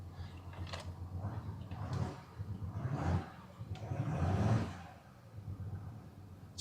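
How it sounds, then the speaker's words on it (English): A deep, steady bass thrum from an Audi diesel engine in a sportier drive mode, rising and falling in loudness over several surges, with short knocks and rustles on top. "It does sound like a diesel now, doesn't it?"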